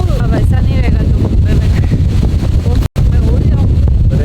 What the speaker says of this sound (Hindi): अरे बहुत ज़्यादा हवा चल रही है इधर